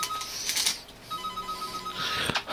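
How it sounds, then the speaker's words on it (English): A mobile phone ringtone goes off in a room, a short bright tonal melody rising and sustaining briefly, with faint background noise and no talking. "This phone went off."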